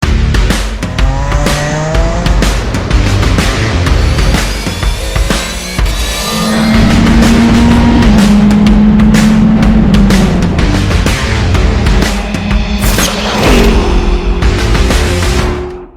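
A Lamborghini Huracan Super Trofeo race car with a 620-horsepower V10, rear-wheel drive, sequential gearbox and slick tires runs loud and close on a track in Valencia, its engine howling through gear changes with tire squeal throughout.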